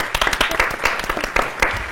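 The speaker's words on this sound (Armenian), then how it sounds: "Եկեք այս անգամ էլ ծափանենք" Studio audience applauding during an Armenian TV game show, a dense run of clapping bursts sustained for about two seconds at moderate level with no voices on top.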